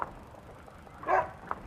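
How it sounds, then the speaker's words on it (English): A dog in a house gives a short, moderately faint bark, with a small yelp just before and after, over low background noise. "And the dog."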